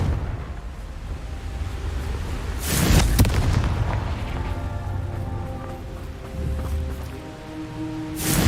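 Confringo fire spell blasts in the video game Hogwarts Legacy, a couple of sharp booming bursts with crackling tails over a steady ambient rumble, the last blast cut off at the end.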